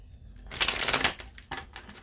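A quick riffling burst of tarot cards being shuffled, followed by a couple of softer flicks and taps, close by and brief.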